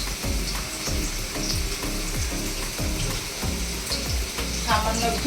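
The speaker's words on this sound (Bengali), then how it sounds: "তেল গরম হয়ে গেছে, আমি আলুগুলো ভেজে নেব" Potatoes fry in hot oil with a steady close sizzle, and soft rhythmic thuds from stirring recur throughout.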